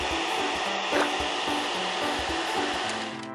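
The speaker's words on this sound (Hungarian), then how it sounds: "és porszívózni." A vacuum cleaner in a Pocoyo cartoon whines with a steady, loud motor drone that holds throughout, while soft rhythmic thumps and cartoon music sit underneath.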